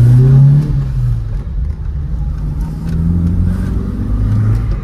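A 1996 Chevrolet Kadett 1.8 EFI with an F18 gearbox pulls hard under acceleration, its steady engine drone loud and close from inside the cabin with a rising, strained note.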